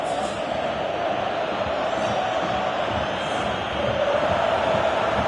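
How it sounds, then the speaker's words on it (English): Stadium crowd noise in a PS4 football video game, a steady broad roar of many fans with a slight swell of cheering toward the end. "The crowd appreciates good football all round there."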